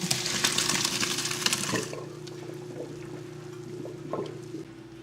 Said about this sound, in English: stir that into the sauce